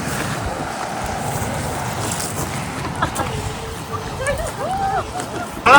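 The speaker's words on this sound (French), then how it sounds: "Il y a un petit peu de vent." Steady wind buffets the microphone in a constant rushing roar on a small volcanic crater in Iceland, with a voice speaking faintly underneath.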